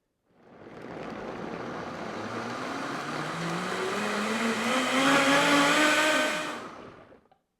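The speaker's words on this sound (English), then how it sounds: "I'm going to do this in my Vitamix blender" A Vitamix blender pureeing a spicy sauce for chicken tostadas, the motor ramping up from a low whir to a loud, rising high-pitched whine, then cutting off after about seven seconds.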